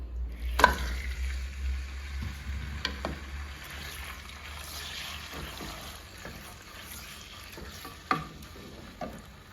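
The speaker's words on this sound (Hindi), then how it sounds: "इसमें मैं चिकन डाल के फ्राई करूँगी।" Chicken fries in ghee over high heat, a steady low sizzle broken by occasional stirring scrapes and clinks, close and moderately quiet with no talking.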